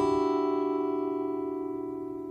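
Several notes struck together as a sustained cluster, ringing steadily and slowly fading, with no voices.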